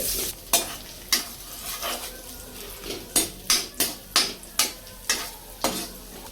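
Raisins and cashews fried in ghee for pineapple kesari, with a steady close sizzle broken by about a dozen sharp spoon scrapes and clacks against the pan, coming faster toward the end; no one speaks.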